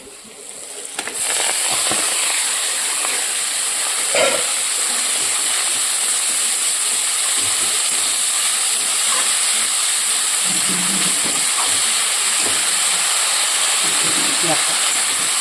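Chopped pea greens drop into hot oil with cumin seeds, ginger and green chili in a home kitchen, giving a loud, continuous sizzling hiss close by with small crackles, while a voice talks over it.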